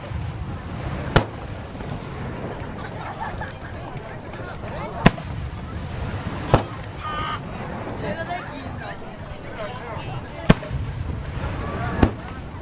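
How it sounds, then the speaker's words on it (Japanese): Aerial fireworks boom over the Mito Komon festival, five sharp distant bursts spaced a few seconds apart, with crackling trails and a murmuring crowd and voices between them. "打ち上げ花火だ。"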